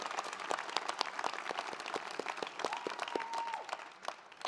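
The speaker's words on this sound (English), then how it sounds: "Let's give them a round of applause too." Audience applause fills the hall at a drama school undergraduate commencement ceremony, steady dense clapping from many hands, moderately distant and soft, fading slightly at the end.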